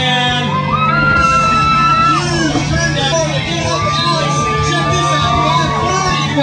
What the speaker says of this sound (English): Make some noise right now for Alex Johann.